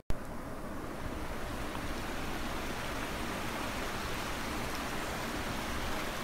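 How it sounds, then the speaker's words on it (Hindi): A river flows past a cow shelter at Govardhan Dham near Kiarkoti, a steady rushing wash of water that fills the whole clip at an even level, with no voices over it. "इतनी सुंदर सी नदी बह रही है, इसकी आवाज़ ऊपर मेन रोड तक जाती है"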